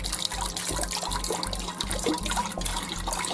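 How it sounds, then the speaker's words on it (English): Beef broth poured from a carton into a soup pot for French onion soup, a steady close liquid splash and trickle running alone for the whole stretch. "we're just going to pour that straight in there"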